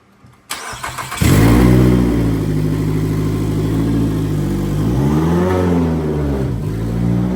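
A junkyard Nissan Altima in limp mode starts up with its exhaust fitted and settles into a loud, rumbling idle. Its engine then swells in a brief rev and drops back, close and with no voices.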